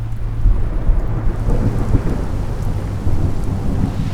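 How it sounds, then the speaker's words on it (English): Steady rain falls with rumbling thunder at Eldora Speedway, a dirt racetrack, during a big race event; dense constant patter and low continuous rumble, no voices. "Rain, of course, because it wouldn't be a big event without Mother Nature."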